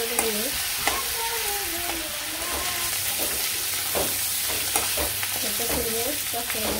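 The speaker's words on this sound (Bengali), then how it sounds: "মাংসটা ভালো করে কষিয়ে নিই" Meat sizzles in a hot pan in a village kitchen while it is stirred and fried down, with close, steady frying crackle and repeated scraping stir strokes throughout.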